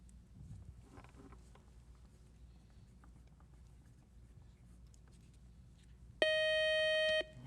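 A loud, steady electronic buzzer sounds for about a second on a quiz show, cutting through a quiet room background.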